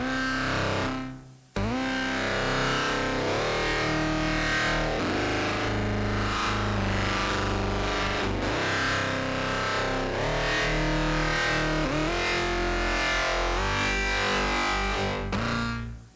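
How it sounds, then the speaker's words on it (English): A dense synth track drenched in heavy distortion from iZotope Trash 2, gritty and saturated, playing continuously after a brief dropout near the start, loud and without any voices. "it's also heavily grunged with Isotope's Trash 2 distortion plugin"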